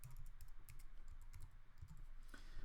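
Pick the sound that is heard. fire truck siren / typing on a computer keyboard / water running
typing on a computer keyboard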